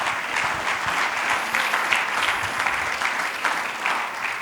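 A church congregation gives strong applause to the Lord during a Spanish-language sermon, a steady, fairly close crowd of clapping hands lasting several seconds without letup.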